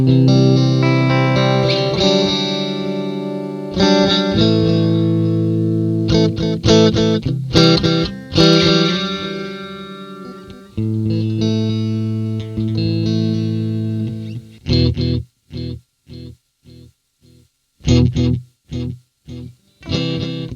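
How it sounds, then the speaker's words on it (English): Electric guitar run through a REVERBERRY reverb effects pedal set to an echoey mode: sustained chords and single notes ring out with a washy, trailing echo, then short staccato strums stop and start near the end, with no talking. "That's kind of an echoey effect."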